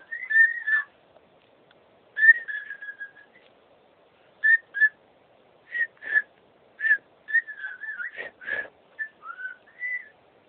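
A pet bird gives a series of short, clear whistled phrases, some rising and falling, separated by brief pauses, loud and close in a quiet room.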